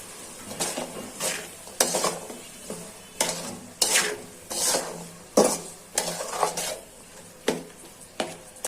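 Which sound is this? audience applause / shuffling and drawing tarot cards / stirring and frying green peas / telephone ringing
stirring and frying green peas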